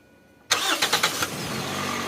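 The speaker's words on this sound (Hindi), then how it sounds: "गाड़ी को जो है ना अभी सल्फ लगाने लगे हैं।" A car engine cranks with the starter in a few quick, rhythmic turns, then catches and settles into a steady, fairly loud idle close by, with no talking.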